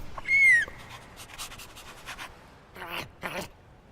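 A cartoon dog in the Minecraft Story Mode video game pants with quick breathy bursts, starting with a short high whine, then two rapid panting bursts near the end over faint game ambience.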